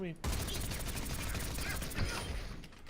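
Wrecking Ball opening fire on a training bot in Overwatch, a sustained rapid stream of loud automatic gunshots running unbroken for a few seconds, close and dense.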